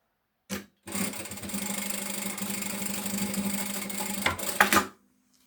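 A sewing machine runs a seam along a strap for a shoulder bag, a rapid even stitching rattle lasting about four seconds, with a brief tap before it starts and a few clunks as it stops.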